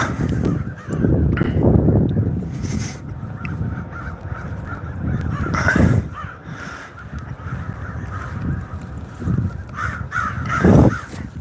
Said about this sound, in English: Murder of crow.